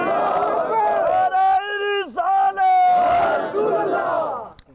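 A large crowd at a religious gathering in Muzaffarabad roars Allahu Akbar in unison as a response to the Naara-e-Takbeer call, the loud chant swelling into sustained voices and fading.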